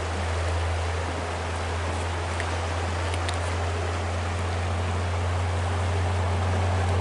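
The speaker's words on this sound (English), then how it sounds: "Oh, just a river, a pretty river." A river flows in a steady, unbroken rush of water noise that stays even and fairly loud the whole time, with no voices.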